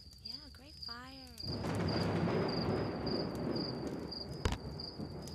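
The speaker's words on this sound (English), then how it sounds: "Sitting out here when it's raining." A rain-soaked thunderstorm at a campsite fills in with a low, steady wash of rainfall and a deep rumble after a voice speaks briefly at the start, while a high insect-like whine persists throughout.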